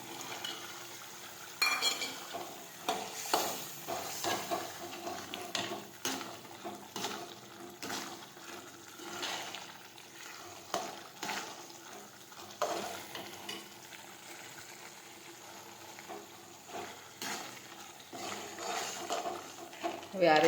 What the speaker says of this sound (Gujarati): હવે આપણે તેમાં ગાંઠિયા નાખી દઈશું.